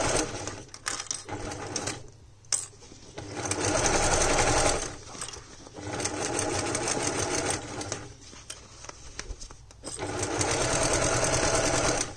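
Sewing machine stitching a seam 1 cm around fabric, buzzing in several bursts with short pauses between runs, close and clear with no talk.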